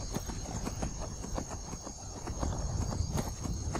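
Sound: horse hooves galloping in Skyrim video game

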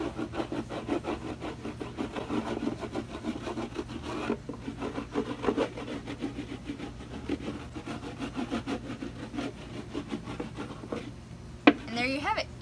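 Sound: rubbing wax onto a surfboard in little circles

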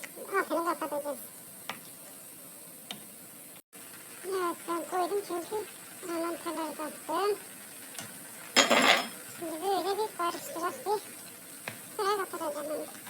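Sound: stirring food in a pan

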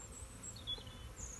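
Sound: honey bees buzzing around a mating nuc

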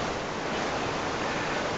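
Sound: waterfall in a Roblox game, a video game

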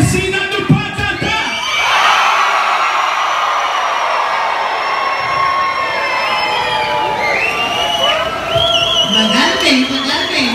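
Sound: crowd of children shouting and cheering at circus show

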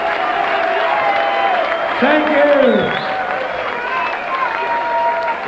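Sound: crowd applauding at darts final

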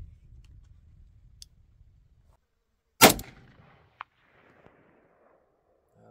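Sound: 5.45 rifle gunshots fired at a target

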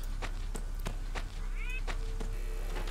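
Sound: cat meowing in a video game (Sophie's Curse)

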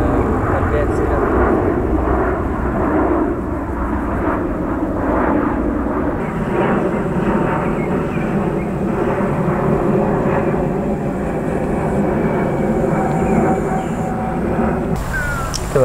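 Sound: airplane flying overhead

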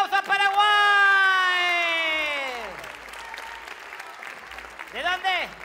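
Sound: studio audience applause

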